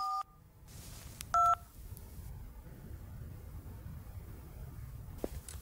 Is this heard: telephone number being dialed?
yes